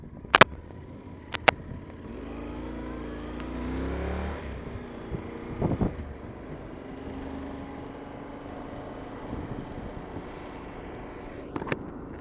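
A Yamaha XTZ 1200 motorcycle rides along with a steady engine drone, rising and falling pitch as it accelerates and shifts, with a few sharp close knocks and bumps; no talking.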